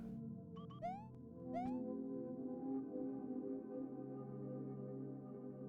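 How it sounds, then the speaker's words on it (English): A cat in the video game Reverie lets out two or three rising, warbling cries over a steady, droning game soundtrack, then falls quiet while the hum continues. "why is the cat screaming so much?"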